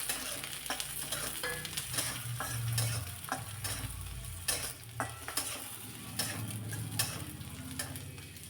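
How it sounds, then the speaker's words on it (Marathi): Chopped onion with chilli and garlic frying in a pan, giving a steady close sizzle broken by repeated scraping stirs and clinks of the spoon, with no talking. "लगेचच त्यामध्ये एक प्लेटभर चिरलेला कांदा घालायचा।"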